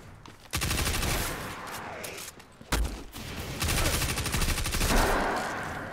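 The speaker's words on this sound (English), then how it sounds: "Cause a chain reaction in the explosions." Rapid bursts of Destiny 2 gunfire and chain-reaction explosions crackle and boom in quick succession, loud and dense, with short gaps between volleys.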